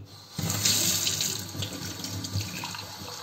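Tap water running from a faucet to fill a glass for measuring, a sudden close rushing stream that starts abruptly and continues steadily, gradually shifting in tone as the glass fills.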